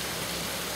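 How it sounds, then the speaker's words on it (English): Rain falls outdoors on strawberry plants as a steady, even hiss of close, soft patter with no voices. "They're getting enough water with the rain that's coming down now."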